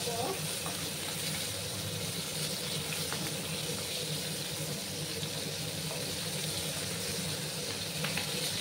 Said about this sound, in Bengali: লালার পরে আমি মাছগুলোকে আর মাথাটাকে ভেজে নেব।